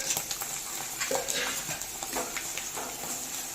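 Soaked dried vathal dropped into hot oil with fenugreek for vatha kuzhambu, a short burst of crackling sizzle and stirring scrapes in a pan, close and steady.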